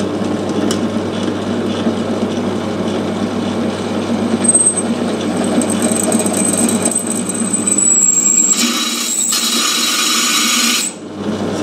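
A power drill bores a hole in a steel saw blade, a loud continuous grinding whir that turns to a high metallic squeal near the end before cutting off.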